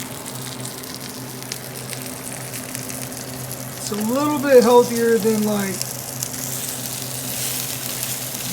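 Flounder fries in a pan with a steady, close, hissing sizzle that runs throughout, while a person talks briefly over it midway.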